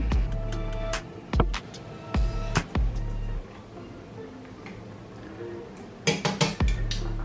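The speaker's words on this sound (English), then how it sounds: "we're going to transfer that into this, my cast iron chili pot." Food from a boiling pot of braised beef short ribs being moved into a cast iron chili pot, with several loud clanks and scrapes of metal on metal, bursts near the start and a cluster of clanks near the end, with no talk.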